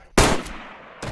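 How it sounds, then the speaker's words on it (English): A single loud, close gunshot in DayZ with a sharp crack that rings out and decays, followed by a second, softer report about a second later, no talk. "So here's the deal, bud. I'm gonna shoot you."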